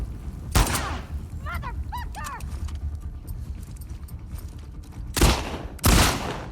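Gunfire in the video game The Last of Us Part II, a few sharp loud shots spaced apart, one early and two close together near the end, with faint chirping game sounds between and a quiet ambient bed.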